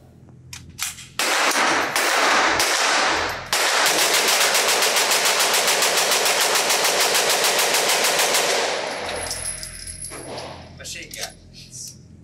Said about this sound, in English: So let me do a 32 round mag dump.